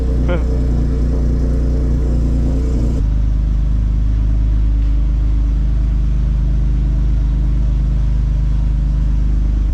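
A Nissan G37 engine rumbles deep and loud nearby, rising briefly with a little throttle before settling back to a steady low drone.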